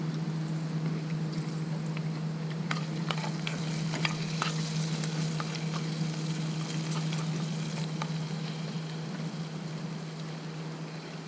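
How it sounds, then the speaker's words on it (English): Oil sizzles steadily in a pan as asparagus and steak fry at a kayak campsite on Englebright Lake, a dense continuous crackle with scattered sharper pops, close and fairly loud, with no talking. "So the oil is sizzling."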